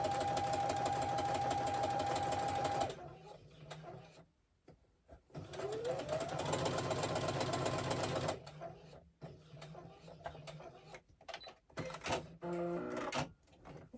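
A sewing machine runs in long continuous bursts while stitching fabric for a book cushion, with whirring stretches broken by short pauses and a few clicks near the end.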